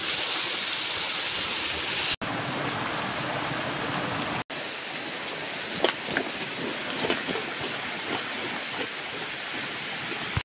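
A river's rushing water pours continuously in a broad, hissing wash, steady and close, with a few faint clicks and knocks mixed in.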